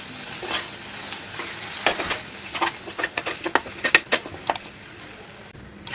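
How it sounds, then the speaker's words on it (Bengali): Ground spice masala with garam masala, coriander powder and salt frying in oil for egg korma, stirred slowly with a spoon that makes a series of sharp scraping clicks over a steady low sizzle, close up, no talking. "আস্তে আস্তে নাড়তে থাকবে।"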